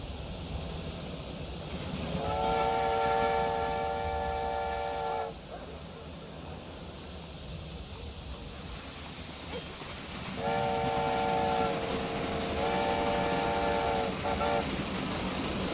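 Trains in the railway management game Railway Empire 2 moving around a lumber yard, with two long blasts of a train horn or whistle over a steady rumbling background.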